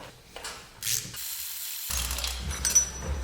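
Close metallic ratcheting clicks from a hand tool loosening a fastener to pull an axle spacer off a car, in short bursts with a brief quiet gap midway.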